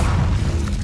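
Booming explosion of a cast spell in Hogwarts Legacy, a loud, close, low rumbling blast with a crashing impact, heard alone in a short burst.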